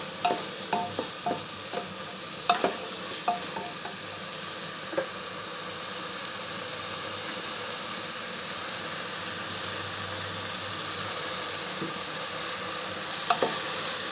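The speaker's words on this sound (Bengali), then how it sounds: "মুসুরির ডাউল চচ্চড়ি বসিয়ে দিয়েছি প্রেসার কুকারে" Lentil chorchori with chili, onion, garlic, oil, turmeric and salt cooks in a pressure cooker, giving a steady hissing sizzle with a few light clinks early on and no talk.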